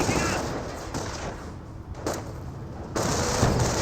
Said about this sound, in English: Auto cannons trying to engage these riflemen across the creek